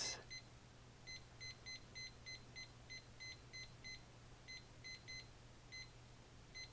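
An oven timer beeps as it is set to 25 minutes while bread is baked, with a series of faint, short, high chirps in a regular rhythm over a low steady hum.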